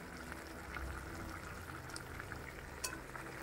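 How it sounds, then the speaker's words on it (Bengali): A seeded banana vegetable curry cooks in a pan with a soft, steady frying sizzle and light bubbling, a faint clink of a utensil stirring now and then, all fairly quiet and close. "বিচি কলার সবজি রান্না করছি"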